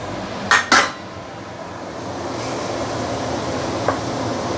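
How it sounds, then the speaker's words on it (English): Prawns go into a pan of seasoned broth for fried wet chow mein noodles. Two quick metallic clanks of a utensil against the pan come near the start, then a low, steady simmering hiss and one faint tap near the end. "Then we can actually put in our prawns."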